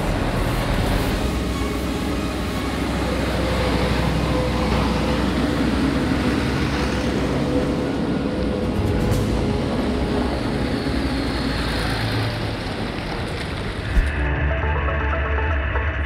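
A steady, loud engine drone from vintage Deutz 13006 Spezial tractors driving in convoy to the field, continuous rumbling throughout with no talk, ending in a slight change near the close.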